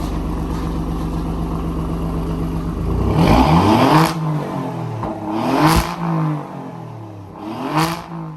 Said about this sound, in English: Let me give it a couple of revs, that you guys can hear how this beautiful engine sounds